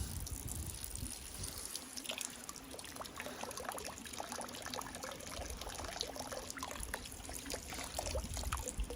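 Water trickling steadily through a Millbank filter bag hung from a branch outdoors, a continuous soft dribble with small splashes and drips, fairly quiet and alone.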